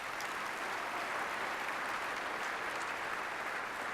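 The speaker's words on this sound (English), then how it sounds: "if you wouldn't mind giving a round of applause for our city staff for their hard work as well." A round of applause for city staff during a mayor's State of Downtown address, steady dense clapping from a large audience, heard faintly and at a distance with no speech over it.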